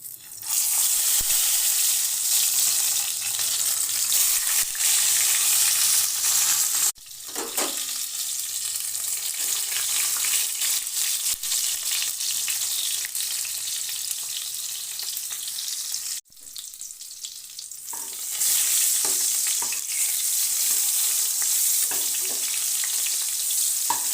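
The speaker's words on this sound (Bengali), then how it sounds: "তেল গরম হয়ে গেছে এবার লবণ হলুদ সামান্য লঙ্কা গুঁড়ো মাখিয়ে রেখেছি বেগুনগুলো দিয়ে ভেজে উঠিয়ে নেবো" Eggplant slices rubbed with salt, turmeric and a little chilli powder fry in hot mustard oil, giving a loud, continuous close-up sizzle that drops briefly twice as pieces go in or are turned.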